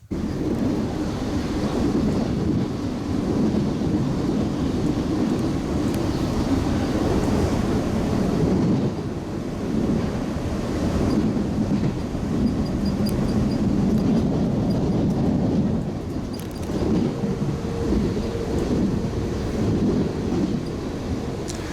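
A steady low rumble of a passing train along the railway between Seattle and Portland rolls on without pause, loud and close, with wind buffeting and faint metallic squeals.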